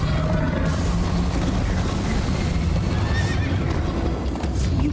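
A horse whinnies and gallops at speed during a chase in Minecraft: Story Mode, with pounding hooves in a loud, dense, continuous mix of game sound.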